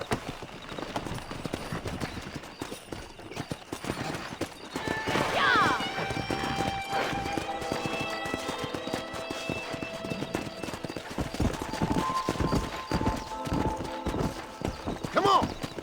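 Horses clip-clop and whinny in a Western open-world game while a rider wrangles them, hooves steady over mixed game sounds and some talk, with neighs rising mid-way and again near the end.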